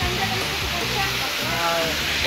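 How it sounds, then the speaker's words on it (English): Steady rushing water from a waterfall in a Turkish forest roars throughout, broad and continuous and heard from nearby, with faint voices mixed in. "We're gonna go behind the waterfall, literally."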